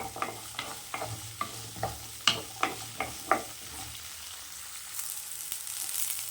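Small shallots sauté in a pan for mutton fry under a soft sizzle, with about eight rhythmic scraping stirs of a spoon before the stirring stops and only a gentle hiss remains.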